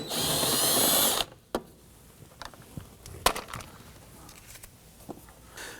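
A power tool whirs loudly for about a second as it loosens a 10mm screw on a Nissan Murano front door, then stops, followed by faint clicks and small handling noises.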